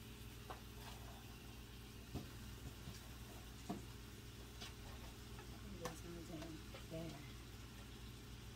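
Beans cook in a pan with a faint, even sizzle, broken by occasional light taps and clinks of a utensil, quiet and close.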